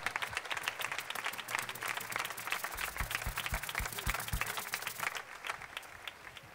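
Audience applause at an outdoor town fair concert with a tribute band and local music association, a dense steady wash of many hands clapping with rhythmic low thumps partway through, fading slightly at the end.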